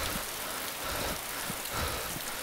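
Steady rain in DayZ hisses down continuously, a dense, even wash of falling drops with no voices over it.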